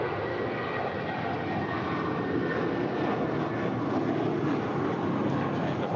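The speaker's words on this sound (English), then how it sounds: "departing here, American 2780 headed to Austin, Texas. The Airbus A320, 22 years old, this Airbus" A 22-year-old American Airlines Airbus A320 departs Los Angeles International bound for Austin, with a steady, fairly distant jet rumble that holds even throughout.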